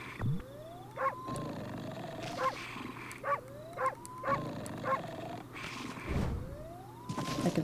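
A wolf howling in the video game Okami, several rising howls repeated over game sounds, with short thumps and effects between them, moderately loud and with no talking.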